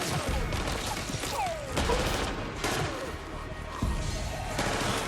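Gunfire from a TV zombie drama comes as a dense, loud burst of repeated shots and crashing impacts mixed with a tense music and effects soundtrack, continuous throughout.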